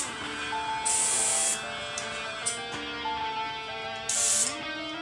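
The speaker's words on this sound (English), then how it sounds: "Just going to get a finer strain on my airbrush first." An airbrush sprays camouflage paint onto a scale model, with short bursts of close, hissing spray separated by quieter gaps and a steady background drone.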